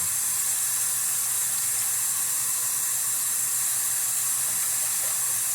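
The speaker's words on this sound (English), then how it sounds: "we're just going to kind of fill up our container. Okay. With water" Tap water running steadily into a cup-sized container in a home kitchen, a constant close hissing stream lasting several seconds with no talking.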